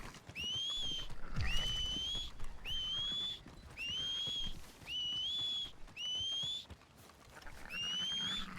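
Repeated rising whistles from a character in Red Dead Redemption 2, about seven short calls in a steady rhythm, loud and close, with faint horse sounds between them.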